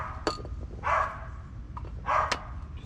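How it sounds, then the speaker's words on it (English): A dog barks a few sharp, separate times at some distance outdoors near a 1973 Volkswagen bus, with quiet gaps between the barks and no speech. "The dog barks away."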